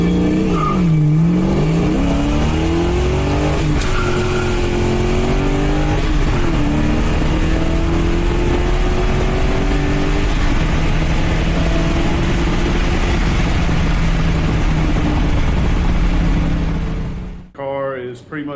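A car engine with AFR 205 heads, Pro-M EFI and Comp Cams XFI camshaft roars on a giant steel drum dynamometer, climbing through revs in a long loud pull with spoken commentary over it before cutting off.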